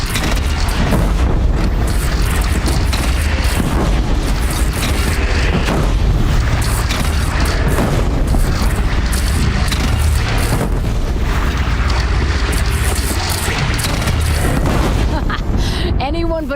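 Cannon fire in Horizon Zero Dawn pounds through a chaotic battle, with heavy booms and explosions layered in a constant loud roar of combat.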